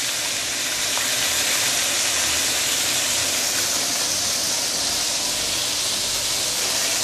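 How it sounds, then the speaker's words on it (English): Spring ginger sauteing in a pan for fish soup gives a loud, steady sizzling hiss, broad and unbroken throughout, with no talking. "I don't mind putting in the white portion of the spring ginger. So let it saute together as well."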